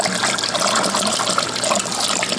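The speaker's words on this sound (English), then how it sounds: "I'm sure you can hear that loud racket going on up over here. Look down there, I've got a massive amount of water flow." A massive, loud flow of water rushes through a small eShop 300 aquarium filtration unit. The gushing roar is close and continuous throughout.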